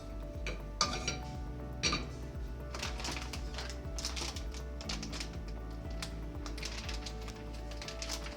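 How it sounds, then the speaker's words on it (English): A knife cuts through a block of cream cheese in a kitchen, with close, soft tapping and clicking of the blade against a cutting surface and a few sharper knocks near the start, all without speech. "so I'm going to cut this in about half."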